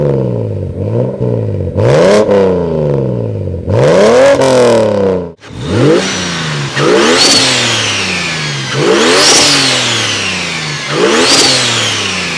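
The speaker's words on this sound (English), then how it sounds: "At least let's rev it a little bit." A BMW 335i with a single-turbo engine revving repeatedly, each blip of the throttle rising and falling in pitch, loud and close with a brief dip before a run of rhythmic revs.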